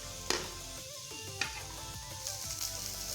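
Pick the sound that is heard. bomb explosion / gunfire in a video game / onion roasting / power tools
onion roasting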